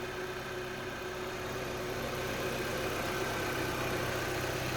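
A 2017 Jeep Patriot Latitude with a 2.4-liter engine idles under the open hood, a steady, smooth, even hum recorded close with no talk.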